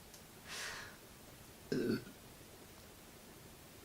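Two short burps in a quiet room, the second louder and deeper than the first.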